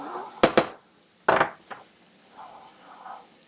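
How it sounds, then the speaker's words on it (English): Black pepper ground into powder, starting with two sharp knocks, then a gritty crunching burst and a lighter click, fading into soft rubbing; close and fairly loud, with no talking. "Grind that into the powder a little bit."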